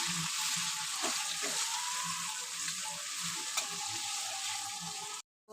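Rice for pulao fries lightly in a pan with a steady, close sizzle and occasional stirring scrapes, continuous for several seconds before it cuts off abruptly.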